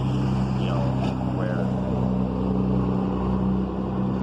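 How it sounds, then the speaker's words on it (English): Steady street traffic rumbling past, a constant low drone of engines with a few brief higher swishes, loud and unbroken throughout. "it's kind of loud here with all the traffic going"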